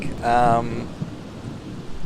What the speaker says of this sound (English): I can't get away from the rain. It's so loud.